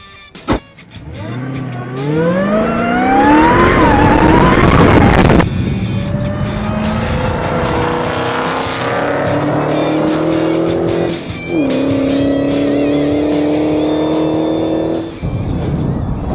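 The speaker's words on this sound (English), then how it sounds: "it takes 80 horsepower just to run this massive supercharger, and boy, can you hear it" A supercharged 2015 Dodge Challenger SRT Hellcat V8 revs loudly and close, its pitch climbing in rising sweeps before settling into a sustained, whining roar. The supercharger whine sits on top of the engine note throughout.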